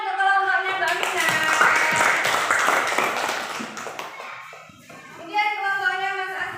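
A classroom group claps for a presenting team, a brief burst of applause in the middle with children's and adults' voices talking before and after.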